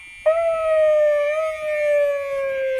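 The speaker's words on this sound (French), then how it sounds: "On a la sirène officielle," A single steady electronic siren tone from the official siren of a 1977 Cadillac Fleetwood limousine starts abruptly and holds nearly level for a few seconds, loud and close, with a faint low rumble underneath.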